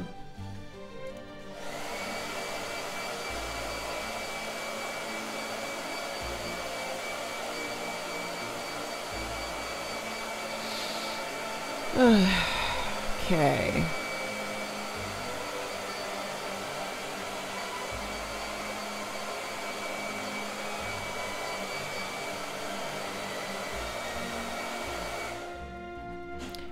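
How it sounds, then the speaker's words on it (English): A hair dryer whirs steadily for nearly the whole stretch, with a brief voice and some handling noise in the middle before it cuts off. "Blow dryer. Hold on."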